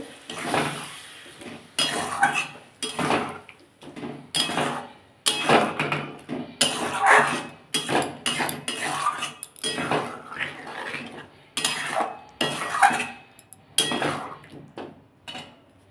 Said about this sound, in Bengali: এটাকে একটু ভালো করে কষিয়ে নেবো